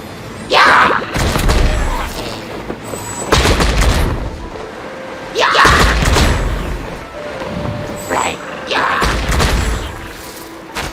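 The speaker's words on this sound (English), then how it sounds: "Mientras planeas puedes lanzar bombas." In the Genshin Impact video game, bombs dropped while gliding explode in heavy, booming blasts, four or five loud detonations spaced a couple of seconds apart, each trailing off into rumble.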